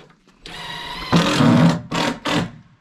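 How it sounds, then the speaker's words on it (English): A power drill or screw gun drives screws into subfloor sheets during a house build, heard as a close, loud whirring run followed by two shorter bursts. "So as BDP is just putting in the last couple screws"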